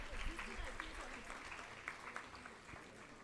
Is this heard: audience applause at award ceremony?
yes